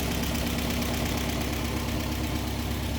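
A 1960 Nash Metropolitan engine idles smoothly in a steady, even drone with constant rumble and hiss, unbroken and fairly close, no voices.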